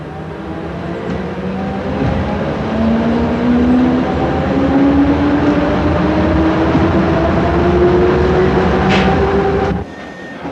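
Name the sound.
train running on the Lincoln to Thursby railway line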